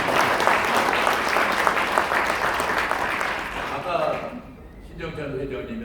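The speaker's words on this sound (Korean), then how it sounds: "그래서 박수철 쳐주세요." Audience applause at a Korean child welfare association's 70th anniversary ceremony, steady dense clapping for about four seconds before thinning out, with a voice speaking under and after it.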